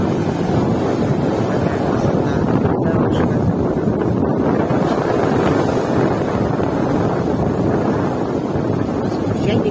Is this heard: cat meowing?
no